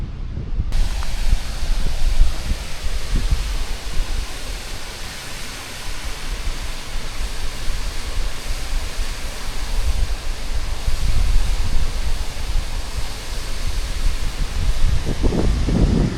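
A small woodland waterfall along Hadrian's Wall gives a steady, close, broadband rush of falling water that holds evenly for the whole stretch.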